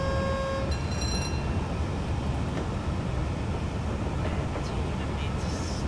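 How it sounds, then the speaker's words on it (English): Fast train running in a train simulator game, a continuous dense rumble with a brief horn-like tone at the start, under a voice. "Quite a fast train."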